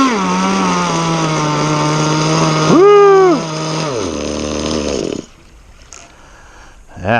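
Small gas outboard motor on an RC tunnel-hull boat running with a buzzing, chainsaw-like drone, revving up briefly before cutting out, followed by quieter background.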